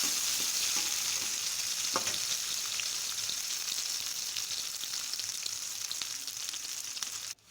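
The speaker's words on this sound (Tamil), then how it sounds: "நல்லா கிளறி விட்டுக்கலாம் வெங்காயத்தை. இது நல்லா பொன்னிறமாக வதங்கட்டும்." Onions frying in oil and being stirred for a Chettinad fish curry, producing a continuous loud hiss with scattered spatula ticks, ending abruptly.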